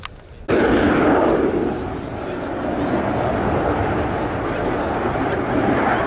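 Military jet at an air show roaring with afterburner lit at maximum power, a sudden loud broadband blast after a quiet start that holds steady and close throughout, with the engine noise overwhelming everything else.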